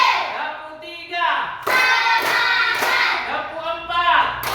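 Schoolchildren in a classroom clap a short rhythmic pattern together, sharp group claps in a few quick bursts, close and loud, with children's voices mixed in.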